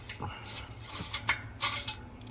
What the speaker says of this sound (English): you're gonna wanna check your dipstick